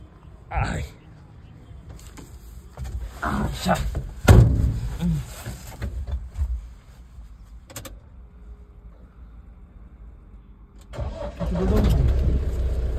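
Tempo vehicle engine cranks and starts, then idles and pulls away. Voices talk over the first half, and the engine grows louder near the end.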